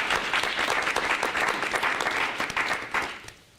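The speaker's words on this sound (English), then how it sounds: "let's just give our students a round of applause" An audience at a public meeting claps for students in a steady, dense round of applause that fades out at the end, with no talking over it.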